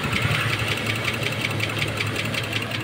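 A car engine idles steadily to warm up, a continuous close rumble with a fast, even knocking pulse throughout and no voices.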